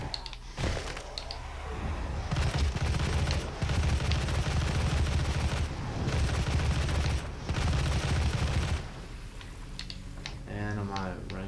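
Sustained bursts of assault rifle gunfire in the video game Doom, rapid loud automatic fire in several long volleys with brief pauses between, over game noise.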